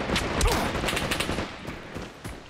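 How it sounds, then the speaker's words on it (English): Rapid bursts of gunfire in the video game Caliber, a dense crackle of shots and short automatic volleys that starts loud and thins into scattered, more distant pops toward the end. "He's shooting at me."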